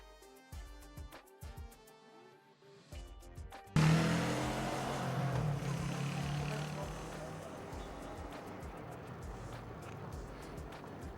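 A 2022 Yamaha R3 motorcycle roars into hard acceleration after a quieter musical start, its engine note loud and near, then easing into a sustained drone as it pulls away.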